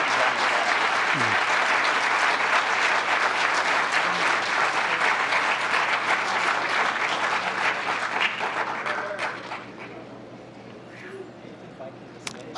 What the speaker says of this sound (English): I think we should be standing and clapping for the veterans